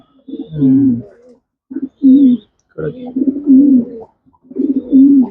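A pigeon coos close by in several soft, throaty phrases with short pauses between them.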